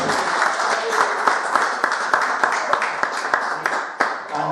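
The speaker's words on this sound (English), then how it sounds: "And if you just could give Shirley a round of applause." Audience applause at an indoor community roadshow talk fills the room with steady, dense clapping from a crowd, continuing evenly for several seconds without voices standing out.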